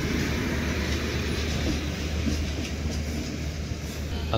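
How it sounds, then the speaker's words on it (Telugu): Passenger train rolling into Visakhapatnam railway station, a steady loud rumble of wheels and carriages that holds without a break through the whole stretch, with no voices over it. "ఇలా విశాఖపట్నం రైల్వే స్టేషన్లోకి అయితే మన ట్రైన్ అయితే ఎంటర్ అవుతుంది"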